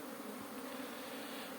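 Honeybees hum steadily around their hives at an apiary in spring, a continuous, even drone of many bees close by with no voices over it.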